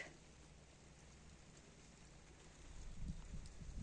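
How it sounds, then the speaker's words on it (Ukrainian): Soft, steady patter of light rain with a low rumbling background that grows slightly louder toward the end. "Слава Богу, тихенький, гарний дощик."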